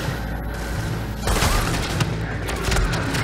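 Assault rifle fire in a video game rattles in dense, loud bursts over a constant background din of battle noise.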